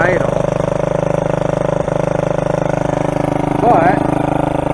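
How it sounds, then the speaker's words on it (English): A 1983 Honda Big Red 200 three-wheeler engine idles high with the choke on, running as a steady close mechanical drone throughout, with a person speaking over it. "The choke's on, so it's gonna be a little bit"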